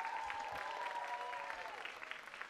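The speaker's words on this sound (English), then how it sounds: "Please clap for them one more time." Audience applause after a cultural dance performance at a student showcase night: steady crowd clapping, slightly distant, with a faint tonal sound running beneath it.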